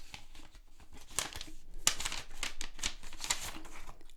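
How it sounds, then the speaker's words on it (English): A paper envelope holding a supplies list from a subscription crate is handled and torn open, giving close crinkling, rustling and tearing bursts that grow busier partway through, with no speech. "First of all, the envelope with the supplies list."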